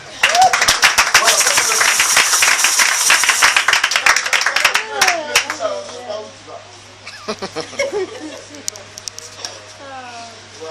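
At a night prayer vigil, a congregation claps rapidly and loudly while voices cry out in acclamation. The clapping thins into scattered claps and shouts in the second half.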